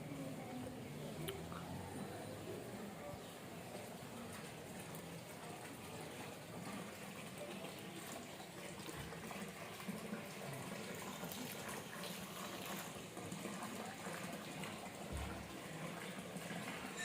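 Water gushes steadily into the hot spring bathing pools at Vashisht Temple in Manali, a constant splashing flow that stays even and unbroken across the whole stretch, with faint background activity.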